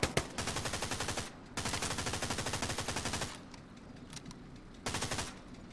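Rapid bursts of automatic gunfire in the Hell Let Loose video game, loud and close, in several long rattling strings separated by short pauses, with scattered single shots in between.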